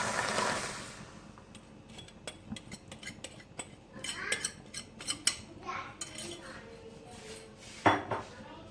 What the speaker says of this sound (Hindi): और इसमें चम्मच हिलाते रहना है।